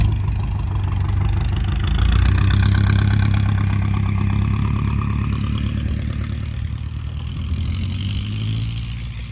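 A tractor engine idles steadily nearby, a low rumbling chug that swells slightly midway, with no voices.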